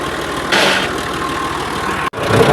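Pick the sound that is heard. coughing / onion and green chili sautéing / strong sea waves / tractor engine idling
tractor engine idling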